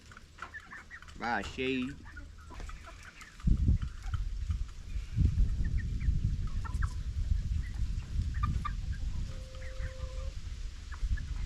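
Seven-week-old chickens, young hens among them, cluck intermittently close by at a weigh-in and leg banding, with a brief louder squawk early on and someone talking over steady handling noise.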